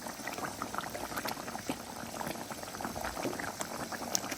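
Chicken curry bubbles in a pot near the end of cooking, a close, soft and continuous burble of boiling liquid with small pops throughout and no voices.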